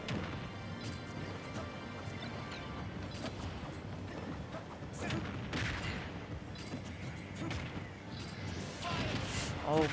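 A grenade explodes in a Super Smash Bros match on the Hollow Bastion stage, amid a dense run of crashes, bursts and hits, with commentators talking over the action.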